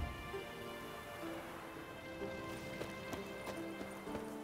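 Steady clip-clop of Roach the horse's hooves in The Witcher 3, a continuous trotting rhythm with faint rain-like patter in the background and no talking.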